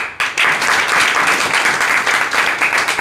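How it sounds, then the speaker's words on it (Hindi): Audience applause at an event, starting abruptly and holding as a loud, dense, sustained clapping from a large crowd with no speech over it. "हम चाहेंगे ऐसी शख्सियत के लिए एक बार ताली बजाइए।"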